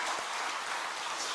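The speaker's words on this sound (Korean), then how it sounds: "박수라도 한번 쳐야 되지 않습니까?" A congregation applauds during a Sunday church service, a dense and even patter of many hands clapping that fills the room without pause.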